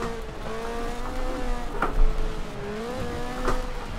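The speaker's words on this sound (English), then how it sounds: "this car's got about 300 horsepower. And obviously rear wheel drive on the dirt, it is a recipe for fun." Engine of a 300-horsepower rear-wheel-drive car racing on dirt in Forza Horizon 4, a steady droning whine with shifting pitch and brief tire-scrub bursts, loud and continuous without talk.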